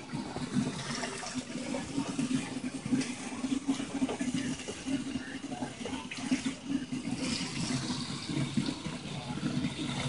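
Water runs steadily from a faucet, a constant close splashing hiss without pause.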